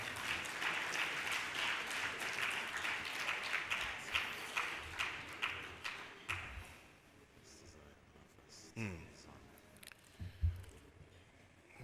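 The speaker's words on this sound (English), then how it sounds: "May I have another round of applause for Professor Odita?" Applause for Professor Odita at a lecture hall event, a round of clapping that fades out after about six seconds, followed by quieter room noise and scattered sounds.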